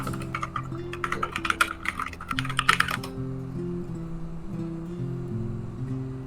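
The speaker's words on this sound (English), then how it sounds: "You got some wild tippity tappings there. My keyboard is loud." A loud computer keyboard clatters in rapid, uneven bursts of keystrokes for about three seconds, close and crisp, over soft background game music that carries on alone afterward.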